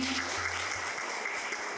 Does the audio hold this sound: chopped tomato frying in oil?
no